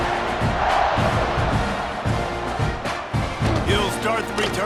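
Loud stadium crowd roaring and chanting in the College Football 26 video game at kickoff, a dense continuous wall of cheering with rhythmic surges, heard up close and steady throughout.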